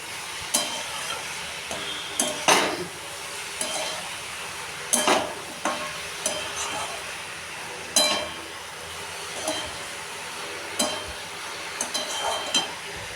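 Gobindobhog rice and banana flower stir-fried in a pan, with a soft continuous sizzle under repeated sharp scrapes and clinks of a spatula against the pan at irregular intervals, close and with no talking.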